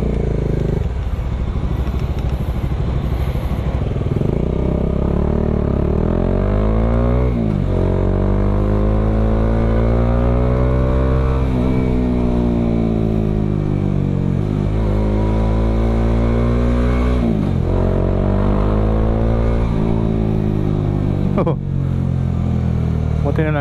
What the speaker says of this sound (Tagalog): My God, traffic.